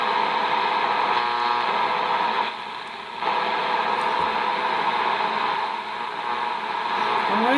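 Shortwave tones received on a Tecsun PL-660 portable radio tuned around 15 MHz, steady banded tones sitting in constant hiss and static with a brief dip partway through.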